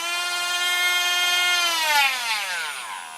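Cordless rotary tool running alone at high speed, a loud close steady whine that holds its pitch and then drops as the speed is adjusted down.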